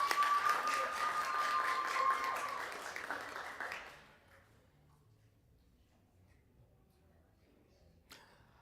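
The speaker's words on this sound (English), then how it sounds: "Round of applause for both of them." Audience applause at an annual debate, a dense crowd clapping loudly for about four seconds before fading into near silence, with one faint tap near the end.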